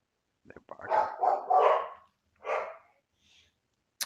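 Several loud barks from dogs nearby, clustered in quick bursts with a short gap, then a final sharp yelp.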